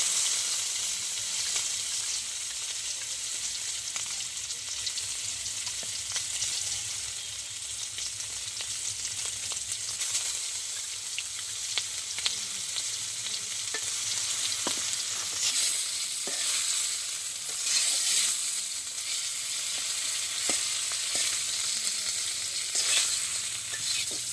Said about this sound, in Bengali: মাছটা ভেজে নেব, চিংড়ি মাছ আর কাতলা মাছ।